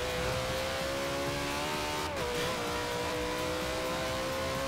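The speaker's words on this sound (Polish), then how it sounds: "Ten wóz po prostu fenomenalnie brzmi." A car engine in the video game Forza Horizon 2 drones steadily at high revs, close and continuous, with a brief dip and pitch shift as a gear changes partway through.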